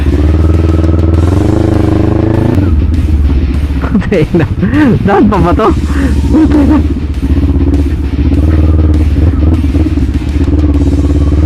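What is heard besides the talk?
motorcycle riding on an off-road track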